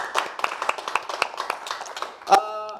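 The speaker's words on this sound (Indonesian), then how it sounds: "Tepuk tangan dong buat Sarwenda." A studio audience at a comedy roast show claps in a brisk, scattered burst to welcome a guest, with people talking over and around the clapping.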